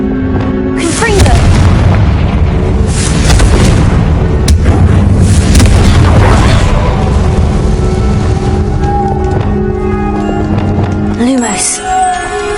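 A Confringo blasting spell goes off in a Harry Potter video game, a loud booming explosion with a rumbling tail that lasts several seconds, mixed with game sounds and a voice speaking.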